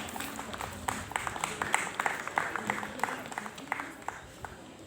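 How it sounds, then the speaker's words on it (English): An audience at a school Independence Day ceremony claps for a student ranked sixth, scattered hand claps building into moderate applause that rises in the middle, then thins toward the end. "Please motivate her with huge round of applause."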